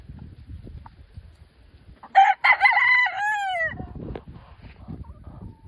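Chickens on a farm: one bird gives a loud, drawn-out crow partway through, while softer scattered clucks and rustling fill the quieter stretches.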